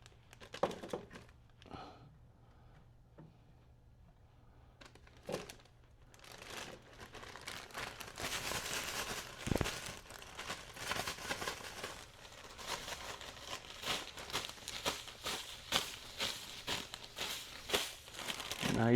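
Homemade carp bait balls tumble and rustle inside a bag as they get a light dusting, a steady crinkling, shuffling noise that starts sparse and quiet, then grows busier and louder about halfway through.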